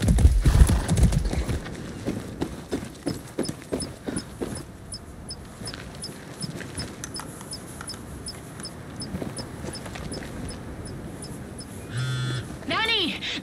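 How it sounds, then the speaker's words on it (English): A horse in the Far Cry 6 video game clip-clops in a steady rhythm of hoofbeats, then lets out a whinny near the end. Voices and game sounds run underneath. "Be nice, horse."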